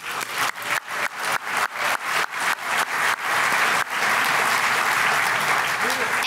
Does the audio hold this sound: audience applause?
yes